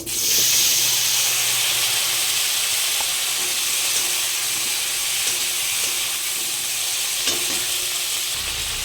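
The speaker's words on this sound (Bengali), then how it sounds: "কেটে রাখা সজনা ডাটা আমি একটু ভেজে নেব" Cut moringa drumsticks fry in oil in a pan, a loud continuous close sizzle and hiss throughout with faint occasional stirring taps.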